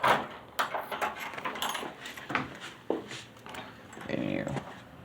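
A key works a deadbolt lock on a door, giving a series of close metallic clicks, jingles and scrapes at an uneven pace, with some rattling handling noise.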